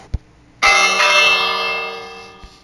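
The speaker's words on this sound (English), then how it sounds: "Let's ring the bell, guys. This bell is going to scare everyone away." A single loud bell strike rings out in the Minecraft video game and fades over a couple of seconds, with a bright metallic tone that follows a couple of soft knocks.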